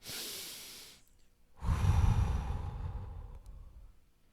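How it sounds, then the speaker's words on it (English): A slow, deep breath: a soft airy inhale fades into a pause, then a fuller, louder exhale rushes out and trails away, close and alone during a guided hypnosis relaxation. "At 3, take a deep, deep breath."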